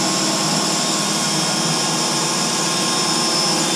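A power tool countersinks a seacock hole from inside a boat hull, giving a loud, steady, high whine that runs without a break the whole time.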